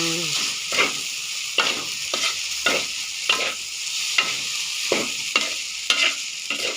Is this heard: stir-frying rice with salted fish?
yes